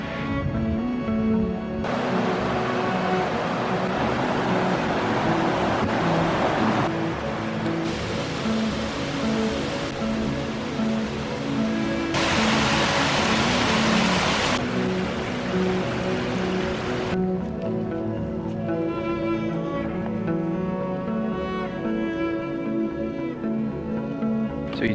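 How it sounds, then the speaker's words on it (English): A tall waterfall at Foster Falls runs full after heavy rain, a continuous broadband rush that swells and eases in loudness over a long stretch. "the other waterfall, which, since it's been raining so much, is flowing"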